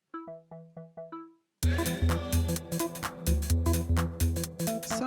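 A bright synthesizer organ tone plays a short repeated figure, then a fuller, sustained organ-like chord pattern takes over with rhythmic pulses underneath.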